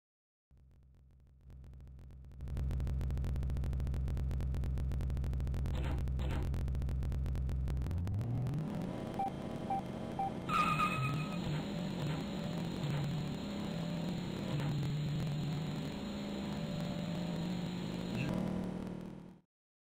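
A Dodge RAM SRT-10 V10 in the 1320Challenge racing game: a low idle rumble swells into a loud, sustained engine roar with shifting pitch, ending abruptly.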